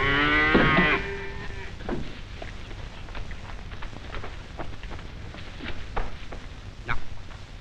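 A cow moos loudly and close once at the start while being milked in a cowboy comedy film scene, followed by softer scattered clatter and rustling against a steady noisy background.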